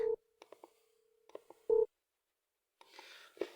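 A telephone busy signal heard while placing a call: a steady tone broken into short bursts with gaps, then a louder beep, followed by faint rustling and a brief clack near the end.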